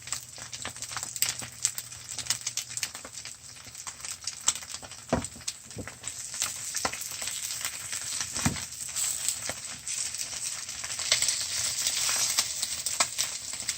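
Over-easy eggs sizzle steadily in a pan, a constant bright crackle with occasional sharp pops and spatula scrapes as they are turned, with no talking.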